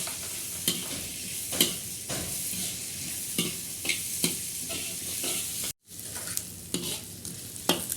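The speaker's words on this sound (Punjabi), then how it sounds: "ਹੁਣ ਇਹਨੂੰ ਆਪਾਂ ਇਦਾਂ ਹੀ ਚੰਗੀ ਤਰ੍ਹਾਂ ਭੁੰਨ ਲੈਣਾ ਜਿਵੇਂ ਆਪਾਂ ਮਸਾਲਾ ਭੁੰਨਦੇ ਆ" Grated raw mango stir-frying in a pan for a bitter gourd dish: a steady close hiss of frying, broken by regular sharp scrapes and taps of a spatula, with a short silent gap midway.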